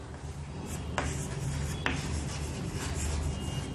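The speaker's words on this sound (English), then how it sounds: "first we write the ratio." A pen writing a ratio of angles by hand on paper, soft close scratching strokes with a couple of sharper taps, quiet and continuous with no speech.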